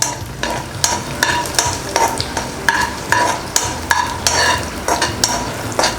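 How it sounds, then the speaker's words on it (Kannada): Cashew nuts deep frying in a pan for sweet pongal, with a steady sizzle broken by regular metallic scrapes and taps of a stirring spoon, close and clear with no talk. "ಗೋಡಂಬಿಯನ್ನು ನಾವು ಈಗ ಡೀಪಾಗಿ ಫ್ರೈ ಮಾಡ್ಕೊಳ್ಳೋಣ"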